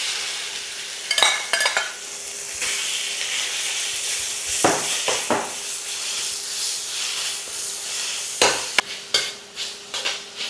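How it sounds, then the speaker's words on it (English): Minced pork sautéing in a wok over medium-high heat: a constant crackling sizzle, broken by bursts of spatula scraping and clanks against the pan, loud and close. "continue to saute on medium to high heat until the minced pork is cooked through"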